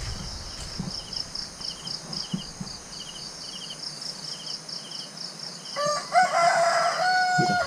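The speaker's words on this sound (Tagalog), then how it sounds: "yung mga manok oh, nagtutugaok na" Steady chirping insects fill the background, then a rooster crows loudly near the end, with soft clucking and rustles earlier.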